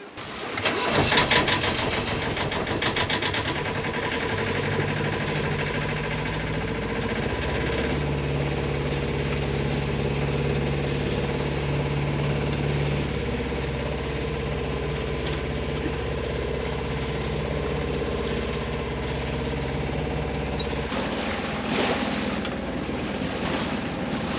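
A sailboat's auxiliary engine runs steadily at sea between the Tuamotus and Tahiti, a constant low drone with tonal hum, mixed with wind buffeting and water wash throughout.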